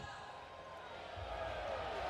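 An arena crowd at a timbersports team world championship cheers and roars, swelling toward a crescendo as the noise builds. It sits at a distance behind a commentator speaking over it.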